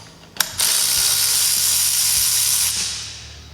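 Ratchet driving a bolt out of a bicycle handlebar riser, giving a sharp onset followed by a steady, loud mechanical whir and buzz that fades toward the end, with no voices.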